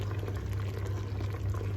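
Plum jam made from just sugar and plums bubbles steadily in a pan, a continuous low rolling boil with soft popping, close and even throughout without any voices.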